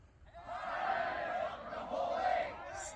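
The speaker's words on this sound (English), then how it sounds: "If a pro formally greets the crowd, they're replied to back by everyone simultaneously" Disc golf spectators at the MVP Open shouting a greeting back to a pro in unison, two loud crowd bursts of about a second each, close and raucous, with a brief pause between them.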